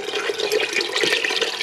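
Tap water runs hard into a container to fill 10 cups for bean soup, a close, steady splashing gush heard alone.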